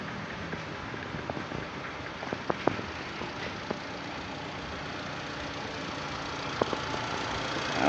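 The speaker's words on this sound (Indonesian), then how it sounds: "Mesin running." A Honda Stream scooter's small engine idles close by with a steady, even hum, broken by a few faint clicks and knocks.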